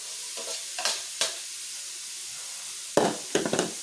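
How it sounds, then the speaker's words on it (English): Green peppers and onions fry with garlic in a pan for Philly cheesesteak, a soft constant sizzle broken by several sharp spatula scrapes and tosses, clustered near the end. "Toss in the green peppers, do the onions."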